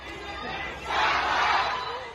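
Protesters in Shanghai chant together as a crowd, a distant, muffled roar of voices that swells partway through and holds steady for a couple of seconds.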